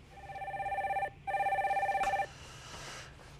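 A telephone rings as a caller is connected on a live broadcast: two long electronic trilling bursts separated by a short gap, then a click and quieter line hiss, with no speech.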